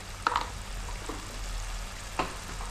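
Ground cumin and garam masala sizzle and fry in hot oil with onions for a homemade dabba fry, a steady close hiss broken by a few light stirring scrapes and taps.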